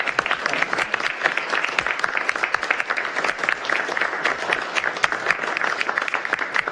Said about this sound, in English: let's give our candidates a round of applause for them